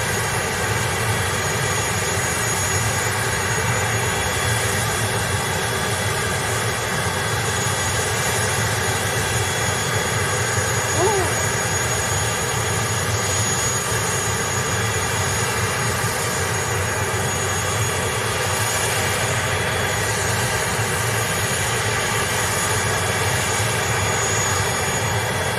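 Steady, loud roar of jet airliner engines at Leite Lopes airport in Ribeirão Preto during pushback, running continuously, a broad rumble with a high whine layered over it, with no speech.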